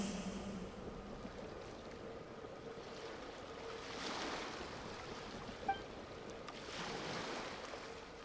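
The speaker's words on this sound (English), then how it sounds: "Go to where you can hear the sound of the waves." Ocean waves in the video game Genshin Impact wash in steadily at a moderate distance, with broad surges swelling around the middle and near the end, plus a faint wind-like hiss and a small bright chime.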